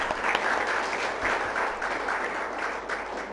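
An audience at a food-as-medicine health talk claps steadily for a few seconds, a dense even patter of many hands in a hall with no speech over it.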